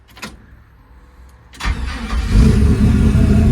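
A 1952 Chevy 3100 short bed with a built LS V8 cranks and fires up after a brief click, then settles into a loud, close, steady rumbling idle.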